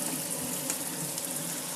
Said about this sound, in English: We'll run some hot water on this.